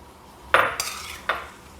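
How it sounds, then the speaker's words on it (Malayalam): Cooked chickpeas tipped into a pot of Kerala sadya koottukari, heard as a sharp metallic clatter of a spoon or bowl against the pot followed by two more quick knocks, close and alone. "ഈ കടല ഇതിലേക്ക് ഇട്ട് കൊടുക്കുകയാണ്"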